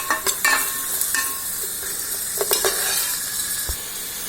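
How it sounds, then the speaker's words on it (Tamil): Tomatoes sautéing with a little salt in a pan, a steady frying hiss punctuated by spoon scrapes and taps in short clusters, close and clear with no voices. "அப்புறம் வதங்கும். தக்காளி நல்லா வதங்கட்டுங்க."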